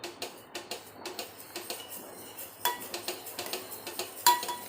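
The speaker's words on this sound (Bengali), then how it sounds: "আমি কাস্টার্ডের যে গোলাটা সেটা একবারে দিয়েই ভালো করে এটা মেশাতে থাকবো।" A spoon stirs custard mixture in a pot, making quick rhythmic metallic clinks and scrapes against the sides, close and fairly quiet, with one louder knock near the end and no speech.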